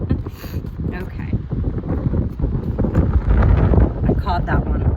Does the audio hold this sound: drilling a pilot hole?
no